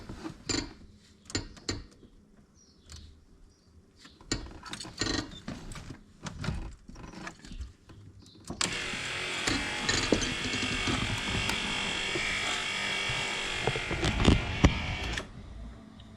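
Electric retractable power antenna motor on an 82-92 Camaro/Firebird, a steady mechanical whirring drone that starts partway through after scattered clicks and handling noises, running loudly for several seconds with the car stereo faintly underneath.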